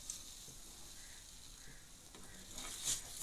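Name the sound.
stirring semiya vermicelli sizzling in a pan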